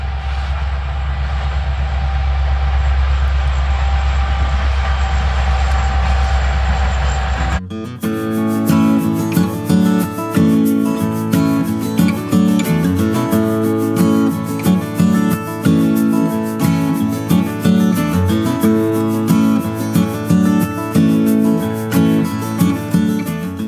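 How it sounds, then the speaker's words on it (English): A train passes close by, a loud steady rumble that gives way to rhythmic clattering of wheels over rail joints as the cars roll past, continuing strongly throughout. "That would be the sound of a train."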